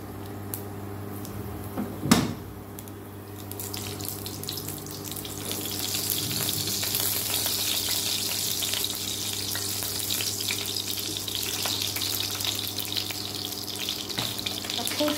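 Panch phoron and a whole dried red chilli sizzle in hot oil for a sajne-posto tempering, a steady hissing fry after a brief clank, continuing close and even with no talk.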